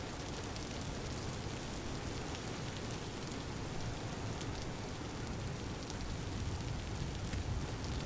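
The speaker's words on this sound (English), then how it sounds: "Listen to the rain." Rain pours in Vintage Story, a steady, even hiss of drops on surfaces that carries unbroken from start to finish, soft and without any voices.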